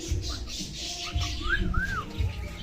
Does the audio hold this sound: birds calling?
yes